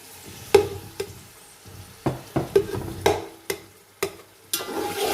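Tomatoes tossed into a hot frying pan while cooking chicken tikka biryani, giving a run of sharp clatters and stirring scrapes at uneven intervals over a soft sizzle.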